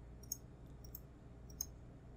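Sharp, faint computer mouse clicks sound while shapes are selected in Illustrator. Around five clicks come at irregular intervals, some grouped in quick pairs, with no talking.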